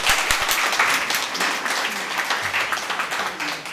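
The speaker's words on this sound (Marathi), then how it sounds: "तर अशा नीताताईंसाठी एकदा जोरदार टाळ्या होऊन जाऊ" Loud audience applause for Nitatai, a writer and director of one-act plays, children's theatre and street plays, at a Marathi literary gathering honouring Shahir Sable: steady, dense clapping filling the hall throughout.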